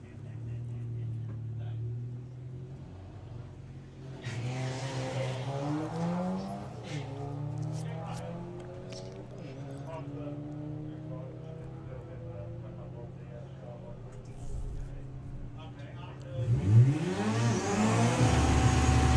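A VW Golf GTI and an Audi A6 drag racing at Santa Pod, heard from a distance as a steady engine drone that swells and climbs as the cars pull away, with rising revs near the end, beneath a commentator's ongoing talk.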